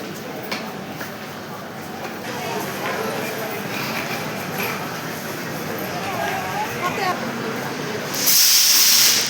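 The Saraighat Express, the Howrah–Guwahati train, stands at platform 1 of Guwahati station: a continuous hiss and platform bustle fill the air, with murmuring voices and a loud burst of hissing at the end.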